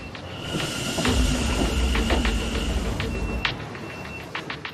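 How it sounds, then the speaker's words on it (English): A train rumbles past with a steady low roar, a faint hiss and occasional high metallic squeals from the wheels. "A few trains have passed through."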